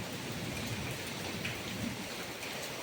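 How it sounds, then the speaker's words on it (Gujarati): Heavy rain pours steadily, a dense continuous hiss with no pauses, close and loud throughout. "જો વરસાદ તો ચાલુ જ છે"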